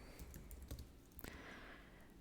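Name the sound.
typing a command on a computer keyboard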